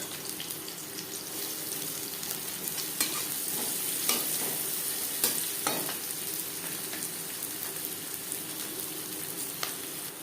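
Chopped onion fries in oil in a kadai used earlier for frying fish, giving a steady, close sizzle broken by irregular light clicks of stirring, with no talking.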